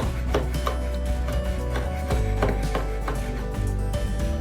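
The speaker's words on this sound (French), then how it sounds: "Vous enlevez les grains et vous allez couper ça finement." Knife finely chopping deseeded chili pepper on a cutting board for a pork, bell pepper and five-spice stir-fry: a run of quick, close, repeated taps with an uneven rhythm, alone without talk.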